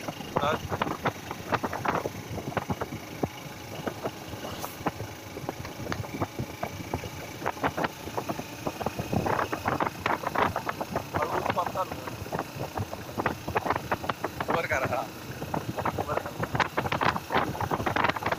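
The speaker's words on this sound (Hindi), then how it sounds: "गाड़ी अभी चल रही है" A Honda Hornet 160 motorcycle is ridden on the road, with heavy wind buffeting the microphone over a low engine drone and scattered sharp clicks and rattles, moderately quiet overall.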